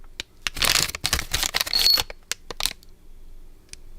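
A bag of bolts and small lock washers rustles and clinks as it is handled close by, with dense crinkling bursts early on and then scattered sharp metallic clicks.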